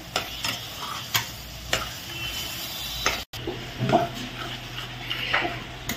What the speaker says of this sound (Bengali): 150 গ্রাম মটরশুঁটি আছে, এটা ঢেলে দিলাম। এবার নাড়াচাড়া করে দিলাম।